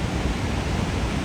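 Steady broadband rush of glacier-fed upper waterfalls in Jasper National Park, a continuous wash of falling water heard alone at moderate loudness with no voices.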